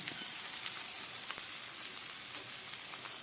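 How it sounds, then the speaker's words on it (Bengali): Ground mustard paste going into a pan of fried onion and tomato for an eggplant dish, with a steady close sizzle and fry throughout and faint soft clicks, no voices. "এবার এই বেটে রাখা সর্ষেটাকেও আমি এর মধ্যে দিয়ে দিচ্ছি"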